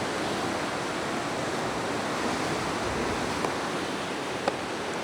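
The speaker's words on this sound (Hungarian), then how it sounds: "Vad a víz, nagyon vad a víz." Rough sea surging against the rocky shore of Cinque Terre in the off-season, heard as a steady, broad roar of surf with no clear separate breaks, fairly loud and close, with no voices.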